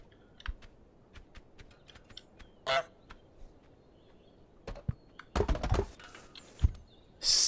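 Goose in Untitled Goose Game dragging a sack, heard as scattered scraping and rustling bursts with a few honk-like squawks, fairly quiet overall with louder clusters near the end.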